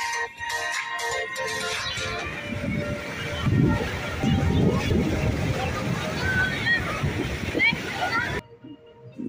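Sea waves wash continuously onto the shore at Calangute Beach in Goa, a steady broadband surf roar with background voices, before the sound drops away near the end.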